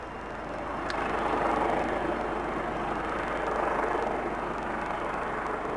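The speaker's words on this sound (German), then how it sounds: "Über der Kölner Südstadt, der Hubschrauber zum Weltuntergang." A helicopter flying over Cologne's Südstadt, a steady droning rotor and engine rumble that rises in the first second and then holds, moderately loud and fairly distant.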